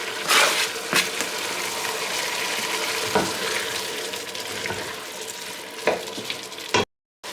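Garlic and tomatoes with carrot fry in a pan for beginner's lasagne, a steady broad sizzle with a few sharp clatters and stirring knocks, ending in abrupt silence.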